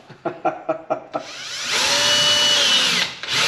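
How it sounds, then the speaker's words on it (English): A power drill enlarging holes in aluminum whirs steadily for about two seconds after a few short knocking taps, loud and close, then winds down and briefly restarts. "drilling those holes out, making them a little bigger, doesn't affect anything because it's all aluminum here"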